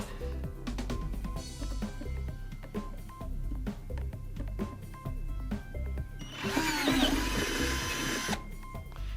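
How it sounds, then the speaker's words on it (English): A power drill whirs in a steady, loud stretch, rising to a harsher, noisier grind near the end as the bit bites through PVC pipe. "And you just want to drill through the top."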